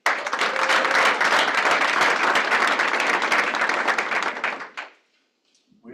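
An audience at a stakeholder meeting gives a round of applause, loud dense clapping from many people that holds steady for several seconds, then fades out quickly into near silence.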